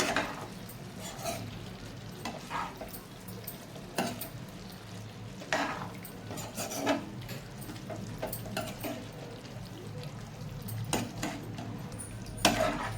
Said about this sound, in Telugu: ఇట్లా మొత్తం కలుపుకోవాలి